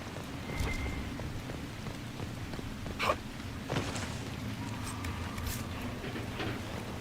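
Rain falling in the video game Dragon Age Inquisition, a soft steady patter under the game soundscape, with a couple of brief louder knocks or steps along the way and no talk.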